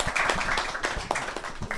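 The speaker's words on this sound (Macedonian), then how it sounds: "Аплауз ке ве молам" Audience clapping at a promotional agricultural event, a steady patter of many hands filling the short stretch with no voice over it.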